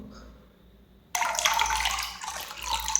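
A dissolved yeast mixture, prepared as food for culturing moina, is suddenly poured into a tub of water, a close splashing gush that starts abruptly after a quiet second and continues briefly.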